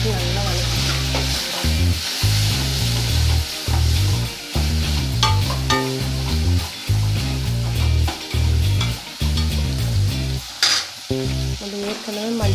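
Onions and tomatoes sauté in a pan for a kurma, with loud rhythmic stirring scrapes over a continuous sizzle and a musical backing underneath.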